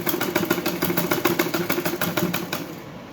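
A sewing machine runs steadily with a fast, even rhythm of needle strokes while stitching a suit lining, close and alone, slowing and stopping near the end.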